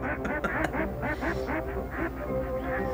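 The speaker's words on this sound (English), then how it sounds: "Along came a duck." A duck quacks over and over in a nasal, rhythmic run of about a dozen calls, loud and close.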